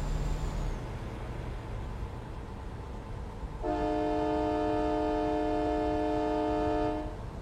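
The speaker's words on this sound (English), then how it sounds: "Nice little train horn." A loud air-horn-type train horn sounds one sustained blast lasting several seconds over steady rumbling noise.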